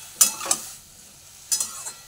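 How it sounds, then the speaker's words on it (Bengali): Bottle gourd being stirred in a frying pan, with two pairs of quick scraping strokes separated by a pause over a faint, steady sizzle, close and moderately loud. "তো এখানে ভালো করে নেড়ে দিচ্ছি।"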